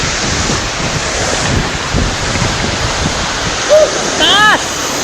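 Rushing water from Alimbuyao Waterfalls in Bolinao roars as a steady broadband wash with wind buffeting the microphone, and a brief voice exclaims near the end.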